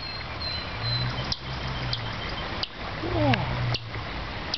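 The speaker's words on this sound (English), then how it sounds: "Maybe that red bird that's yelling at me right now." A red bird calls sharply from a tree near its nest in a spring garden, several short chirps over a soft running-water background.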